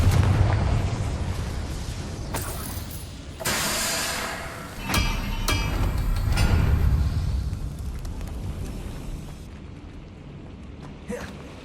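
A Confringo spell blast in the video game Hogwarts Legacy, heard as several booming bursts and pops amid noisy battle sounds that fade toward the end.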